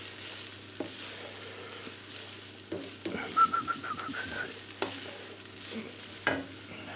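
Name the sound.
mince frying in a pan for chilli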